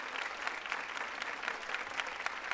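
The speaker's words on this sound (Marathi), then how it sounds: "जोरदार टाळ्या तिघांसाठी सुद्धा झाल्या पाहिजेत." Audience clapping at a Marathi comedy stage show, Chala Hawa Yeu Dya: a fairly faint, even patter of many hands from a crowd, sustained across the whole moment.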